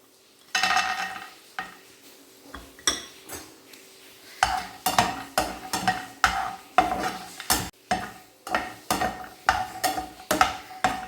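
Almonds are fried in a pan while a spoon stirs them in a regular rhythm, giving repeated scraping clinks over a faint sizzle. There is no talking.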